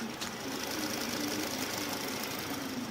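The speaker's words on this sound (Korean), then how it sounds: "바로 가까이서 엔진 사운드 담아드리도록 하겠습니다" With the hood open, the 2.5-litre gasoline engine of a 2020 Kia K7 Premier idles, recorded up close. It makes a steady, even hum with a fine, fast ticking and a faint hiss, and no voices are heard.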